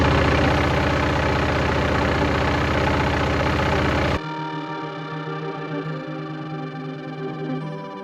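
A cruiser touring motorcycle engine runs steadily up close, a loud continuous drone that drops to a lower, quieter idle halfway through.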